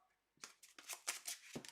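A deck of cards being shuffled, quiet close riffling in several quick bursts after a short silence.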